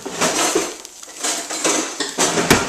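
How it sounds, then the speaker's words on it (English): A wooden spoon stirs butter and flour in a pot for a cheese sauce, repeated scraping knocks and dull clunks against the pot in an uneven rhythm, close and without talk. "So what you're doing now is you're just kind of mixing the butter and the flour together"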